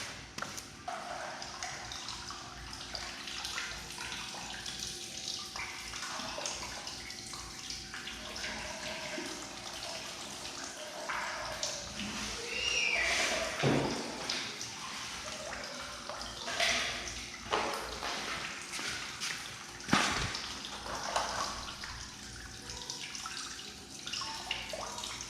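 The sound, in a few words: distilled water poured into Honda CBR600RR coolant tank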